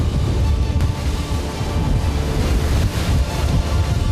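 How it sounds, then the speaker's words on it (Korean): Rough sea waves swelling around a fishing boat off Heuksando, a loud steady roar and wash mixed with wind buffeting, no voices. "점점 더 거세지는 파도."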